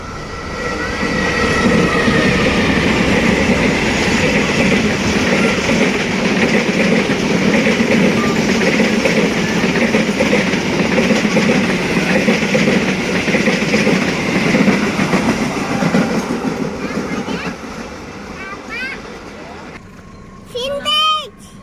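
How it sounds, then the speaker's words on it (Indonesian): A vintage locomotive train passes nearby with a loud, continuous rumble and clattering wheels that fade away toward the end, with excited voices talking throughout. "Kereta api vintage membawa gerbong kargo."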